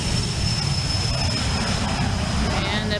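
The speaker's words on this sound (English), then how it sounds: "And that plane is going to be airborne." Propeller plane taking off at Aurora Municipal Airport, a steady loud engine roar with a constant high whine, holding level throughout without any talk.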